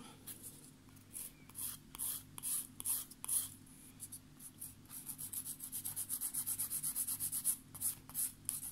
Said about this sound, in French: Donc je lime ça